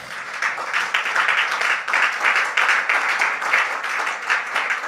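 A church congregation applauds, with steady, dense clapping that swells and recedes in waves. It stays loud and close throughout, with no talk over it.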